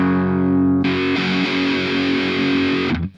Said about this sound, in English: and then kick in the distortion.